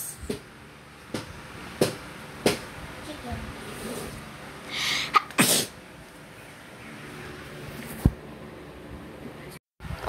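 A cartoonish sneeze sound effect from the Roblox game Brookhaven bursts out once near the middle, short and fairly loud over a bed of game noise and soft background sounds.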